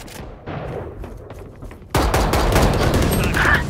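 Light machine gun fire in Valorant, a short quieter burst followed by a loud sustained rapid-fire stream of shots that continues to the end.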